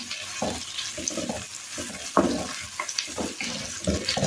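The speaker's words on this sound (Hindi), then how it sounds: "ये हल्का सा प्याज जब फ्राई हो जाएगा ना, इसको हमने कलर नहीं देना, बस हल्का सा फ्राई करना है।" Two medium sliced onions frying lightly in oil for a beef trotters gravy: a constant close sizzle with repeated stirring scrapes and soft clinks in an uneven rhythm, and no one speaking.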